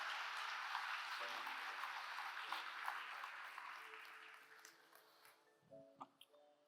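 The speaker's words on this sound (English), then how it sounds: "Give her a big round of applause, ladies and gentlemen." A conference audience applauds, a broad wash of clapping that is loud at first and gradually fades out, leaving a few scattered claps and faint clicks at the end.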